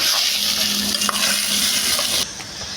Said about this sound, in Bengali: আলুগুলো একটু ভালো করে ভেজে নিব